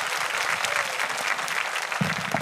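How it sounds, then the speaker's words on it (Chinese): Church congregation applauding a preacher after his first sermon in the main hall, a sustained wash of clapping from a large crowd at steady loudness, with a short voice rising underneath near the end. "我们用掌声鼓励他。"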